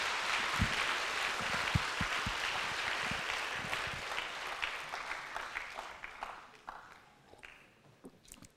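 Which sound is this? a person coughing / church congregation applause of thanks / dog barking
church congregation applause of thanks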